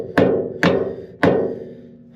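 Three sharp, loud metallic hammer blows strike a wedge in a scraper cable, each ringing briefly and decaying, spaced at uneven intervals.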